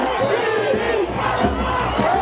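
Amite Warriors fans roaring and cheering at a high school football game, a loud sustained crowd noise with shouts rising and falling.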